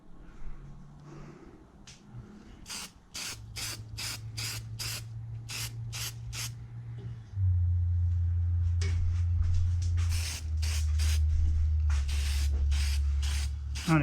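Repeated short hissing bursts of an aerosol spray paint can on intake runners, roughly a dozen quick sprays in an uneven rhythm over a steady low hum, close by.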